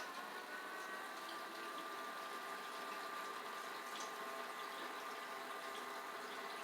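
Leshein electric fuel transfer pump moving gasoline into a container, a steady whirring hum mixed with rushing, splashing liquid flow, constant and fairly quiet throughout, no voices.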